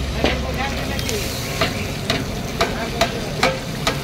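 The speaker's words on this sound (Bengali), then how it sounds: "ভালো করে নাড়াবো। এটাতে ভালো করে কষাচ্ছি" A paste of yogurt, cashew and poppy seed is stirred in a hot pan for dahi potol. A steady sizzle runs under regular sharp scraping strokes, close and fairly loud, with no talk.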